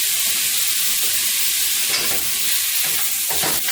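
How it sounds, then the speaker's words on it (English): Julienned carrot and bell pepper stir-fried in a hot pan, giving a loud, continuous hiss and sizzle with a few brief scraping stirs near the end, no talking. "I got that julienne carrot. Give that a little mixy mix."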